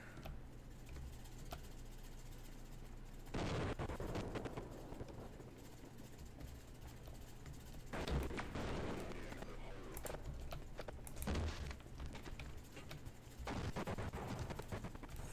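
A tank fires in the video game Half-Life, heard as three heavy bursts of booming gunfire separated by several seconds over a constant low game hum, with no talking.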